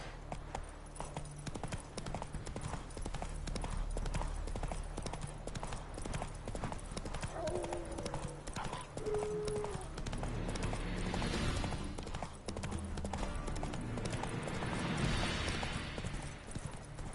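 Horse hooves clip-clop steadily at a brisk trot through the game The Witcher 3, a continuous rhythmic patter under ambient game sound, with a couple of brief tonal cues partway through.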